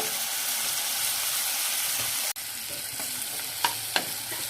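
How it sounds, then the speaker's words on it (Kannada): Tomato fries in a pan for a capsicum gravy, giving a steady, even sizzle with a brief dropout midway and a couple of light stirring clicks near the end. No one speaks. "ಇದನ್ನು ಸ್ವಲ್ಪ 1 ನಿಮಿಷ ಫ್ರೈ ಮಾಡಿ. ಟೊಮೊಟೊ ಸ್ವಲ್ಪ ಬೇಯಲಿ."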